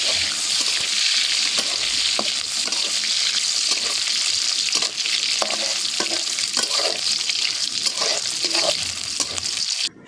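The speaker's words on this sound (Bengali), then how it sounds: "এখন একটি কড়াইতে পর্যাপ্ত পরিমাণ তেল গরম করে নিয়ে শুটকি মাছগুলো 2-3 মিনিটের মতো" Loitta dry fish fry in hot oil in a wok, giving a loud, continuous sizzle with crackling spits and occasional stirring scrapes throughout, close and unbroken with no talking.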